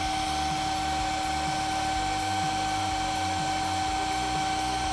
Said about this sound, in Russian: Воздушный поток на максимум.